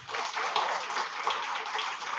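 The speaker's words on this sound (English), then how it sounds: "Please let us give a round of applause to Miss Tiff Short." Audience applause for a contestant walking on stage at a live show, a steady wash of many hands clapping, fairly close and even, with no voices over it.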